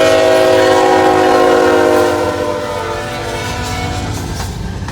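A CN freight train passes with an AC44C6M locomotive trailing second, its horn blasting loud and sustained at close range, then easing slightly as the rumbling cars roll on.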